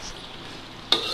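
Lamb keema matar curry cooks uncovered in a pan with a steady, close sizzle and bubbling, then a brief louder scrape or stir near the end.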